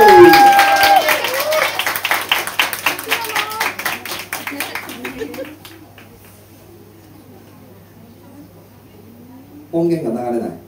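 A crowd at a street dance showcase applauds to welcome the dancer Kumasaka: dense, close clapping that thins out and dies away over about five seconds, leaving near quiet before a brief burst of sound returns at the end.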